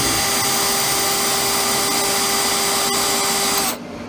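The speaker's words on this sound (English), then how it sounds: "These holes have to be drilled at an angle for this project." A power drill bores angled holes in stainless steel with a loud, steady high-pitched whine and grinding hiss, close up and alone, cutting off abruptly near the end.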